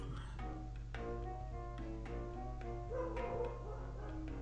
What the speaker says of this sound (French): je crois que le chien de la voisine n'est pas content